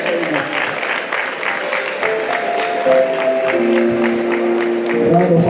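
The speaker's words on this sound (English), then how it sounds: "Round of applause." Audience applause fills a hall at an MBBS medical induction ceremony, steady and sustained throughout, with a voice talking over the clapping.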